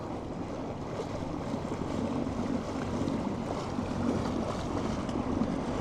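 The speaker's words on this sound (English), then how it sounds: "we got the wind hitting us right here, and we got the water underneath pushing us" Steady wind buffeting and water washing against a kayak out on open water, a continuous dense rush with gusty mic rumble, close and even throughout with no talking.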